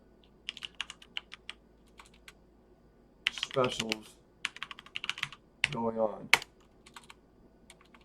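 Scattered keyboard typing clicks, quick bursts with short pauses, close and fairly quiet, with a person talking over part of it.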